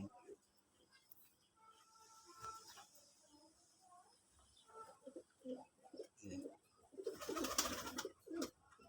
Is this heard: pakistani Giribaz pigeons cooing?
yes